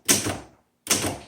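Two quick mechanical strikes on a 1931 Burroughs typewriter, each a sharp, loud clack with a short ringing tail, separated by a brief silence.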